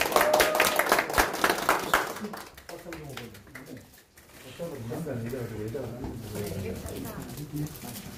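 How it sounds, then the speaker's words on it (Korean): Audience clapping at a Korean party meeting, dense rhythmic applause for about two seconds that tapers off, followed by a voice speaking over the room. "박수 한번 주세요!"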